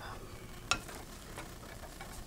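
Cooked mushroom filling being stirred in a pan, with a quiet steady sizzle and one sharp utensil scrape against the pan early on, then soft scraping strokes.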